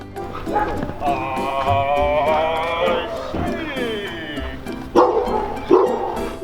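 Dogs bark repeatedly on a street in Chile, the barks sharp and fairly close over steady outdoor noise, with a few louder yelps near the end.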